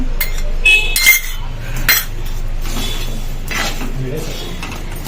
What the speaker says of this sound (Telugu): ఇప్పుడు ఈ నిమ్మకాయ రసం కూడా మంచిగా కలిపేసుకోవాలి